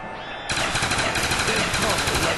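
Rapid automatic gunfire mowing down zombies in Call of Duty Black Ops Ascension, a dense, loud, continuous burst breaking in suddenly and running under a speaking voice.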